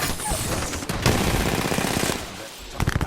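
Rapid automatic gunfire in a first-person shooter video game, a dense continuous burst of shots that is loud and close, with a short pause and then more firing at the end, while a voice speaks faintly beneath.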